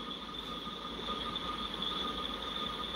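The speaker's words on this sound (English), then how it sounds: "Here comes that end of that train right there." Military train led by a CSX locomotive rolling past in a Roblox rail game, a steady continuous rumble with a sustained tonal hum, no voices.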